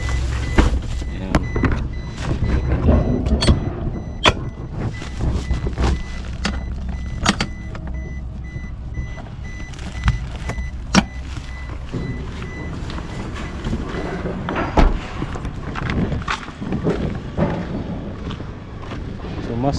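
A 2013 Mazda Scrum minivan with its engine mounted underneath runs steadily close by, a low continuous rumble broken by sharp clicks and knocks, with a voice talking faintly.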